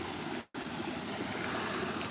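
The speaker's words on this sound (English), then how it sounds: "now we're at the top of the waterfall" Rushing water at the top of a waterfall, a loud continuous broadband roar heard close up, briefly cut out near the start and then steady with no talk.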